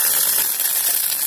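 Dense, bright crackling and sizzling of cumin seeds popping in hot oil in a pan, steady and close throughout.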